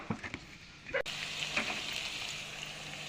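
Onion sizzles and fries steadily in hot oil left from frying fish and bori, with a soft crackle and a brief scrape partway through.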